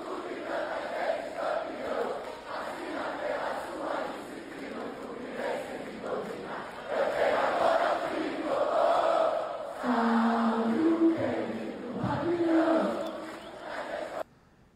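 Fluminense supporters celebrating the Copa Libertadores title won in the final against Boca create a roaring crowd din in the Laranjeiras neighborhood, with a sustained mass of cheering and shouting that swells louder midway before cutting off.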